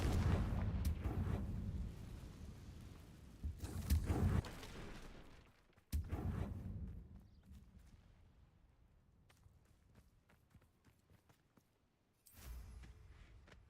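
A Confringo blasting spell from a video game goes off in a series of deep, booming explosions with rumbling tails. Two heavy blasts come early, a sharp crack follows near the middle, and a last burst lands toward the end.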